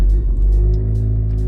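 An Audi engine started with a new modified key settles into a low, steady idle hum with a deep rumble, close and continuous after a brief opening burst.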